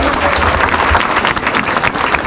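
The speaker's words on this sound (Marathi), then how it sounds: "एक जोरदार टाळी वाजा यांच्या सगळ्यांसाठी" A crowd applauding a Govinda team at a Dahi Handi celebration in Malad, loud, dense clapping that carries on steadily from start to finish.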